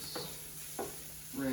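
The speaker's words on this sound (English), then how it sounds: "The onions are sauteing nicely." Onions sauté in a skillet for a chickpea lemon dish, giving a soft, low sizzle with a couple of brief stirring bursts and a hint of a voice at the end.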